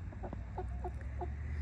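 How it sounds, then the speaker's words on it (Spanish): Chickens on a ranch, perched around a pickup truck, give a few soft, short clucks at a steady spacing, close by, over a constant low background rumble. "aquí en las gallinas, qué conchudas aquí en la camioneta de mi esposo"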